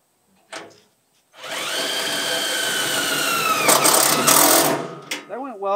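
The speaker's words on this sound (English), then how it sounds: "Let me put these screws back." A power driver whirs steadily as screws go back in, one long close run with a pitch shift near the end and short bursts before and after, in a rammed earth building setting.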